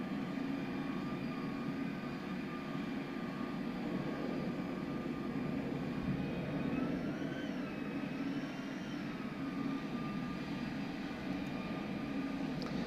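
A Boeing 787 in Microsoft Flight Simulator, arriving at Singapore, produces a steady, unbroken jet engine roar and cabin hum that stays at an even loudness throughout, with no talk.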